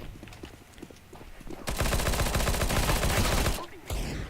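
Rapid bursts of gunfire in a first-person shooter match on the Shortdust map, loud and dense for about two seconds after quieter scattered shots, with a voice faintly underneath.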